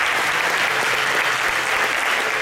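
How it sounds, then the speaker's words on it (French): Dense, steady applause from a theatre audience at a stage magic show, loud and sustained without a break. "Et Didier, on va pouvoir lui faire un tonnerre d'applaudissements encore une fois."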